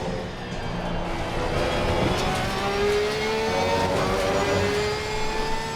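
A Porsche 992 GT3 R race car's engine revs hard in Assetto Corsa Competizione at Imola, a sustained high-pitched howl rising through the gears, with other cars nearby.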